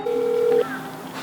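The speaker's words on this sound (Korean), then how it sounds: "전화 연결을 시도해봤습니다" A telephone dialing tone for a call to an elder of a small island church, one steady single tone held about half a second, then a fainter lingering line-tone, close and clear with no talk.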